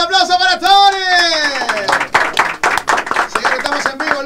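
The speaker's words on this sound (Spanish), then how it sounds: "Señores, el aplauso para Tony." A studio audience at a live salsa radio broadcast claps in a quick burst of applause, following a sung or called-out voice and mixed with talk at close range.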